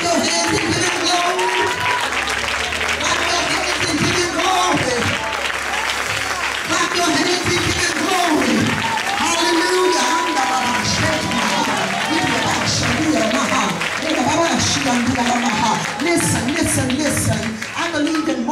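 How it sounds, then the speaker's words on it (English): A church congregation claps and applauds loudly and continuously, a dense crowd wash with voices and music mixed in underneath throughout. "Come on, clap your hands and give it glory."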